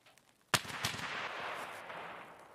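A gunshot in Escape from Tarkov on the Lighthouse map: one sudden loud crack followed by a second report and a long rolling echo that fades slowly, heard alone.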